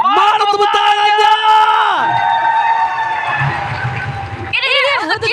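An esports arena crowd at a Mobile Legends match roars with loud whoops, yells and sustained cheering, swelling and then settling into a noisy murmur before another burst of shouting.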